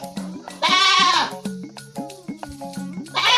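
A large goat bleats loudly nearby, two drawn-out calls with short clattering sounds between them.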